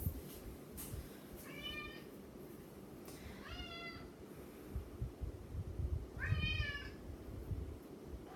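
A house cat meows three times, faint and spaced apart, against a quiet low rumbling background indoors.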